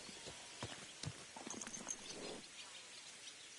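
A horse walks at an even pace in Kingdom Come Deliverance 2, its hooves giving soft, fairly close clip-clop steps over a quiet outdoor background with faint birdsong.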